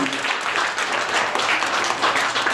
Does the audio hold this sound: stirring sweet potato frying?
no